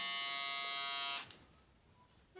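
A Braun electric shaver runs with a steady, close buzzing hum for about a second, then switches off, leaving faint room noise and a small click.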